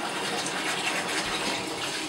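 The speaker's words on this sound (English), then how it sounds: "I kind of run them under the faucet." Tap water gushes steadily from a faucet while cloth diapers are rinsed under it, a continuous close splashing stream with no talking.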